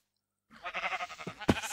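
A Minecraft sheep bleats loudly and close, one wavering call followed by a short sharp sound at the end, with no talk over it.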